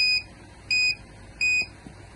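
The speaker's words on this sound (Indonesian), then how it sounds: "maka buzzer akan berbunyi secara bling" An electronic buzzer alarm on a microcontroller project sounds three sharp, high-pitched beeps in an even blinking rhythm, each lasting about a quarter second with brief quiet gaps between.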